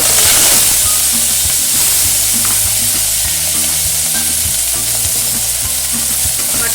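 Mutton pieces frying in hot oil inside a pressure cooker give a loud, continuous sizzle, with repeated scraping and clinking as they are stirred, close and without talking.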